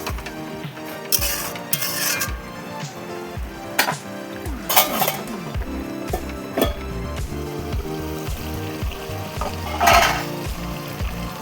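Pointed gourd curry being stirred in a pan, with repeated scraping and clanking of a spoon against the metal alongside a soft frying sizzle, close and fairly loud with no talk.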